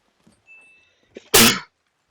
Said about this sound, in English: Fucking sneezes.